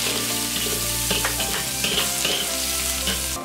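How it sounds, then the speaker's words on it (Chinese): Ginger and garlic stir-fry in hot oil in a wok, giving a loud, steady sizzle with quick spatula scrapes and clatter throughout and no talking. "锅中留底油，下姜蒜爆香，"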